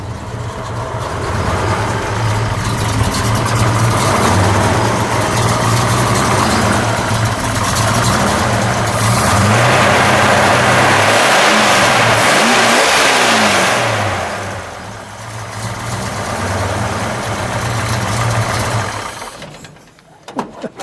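An AMC muscle car from the Javelin, AMX and Rambler SC/Rambler era with a big camshaft idles with a loping, uneven rumble, then revs loudly and repeatedly. It stays close and steady throughout, then dies away near the end.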